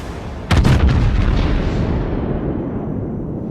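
Heavy naval guns of a battleship in the naval combat game World of Warships fire a single deep, booming salvo that rumbles and slowly fades over several seconds.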